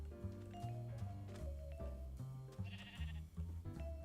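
Sheep bleats from Minecraft, several short wavering calls in a row over busy game background music, fairly close and moderately loud.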